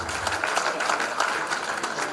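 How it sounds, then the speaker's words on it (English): An audience at a primary school graduation ceremony claps steadily, a dense even patter of applause that holds for a couple of seconds at moderate distance. "Give them a round of applause."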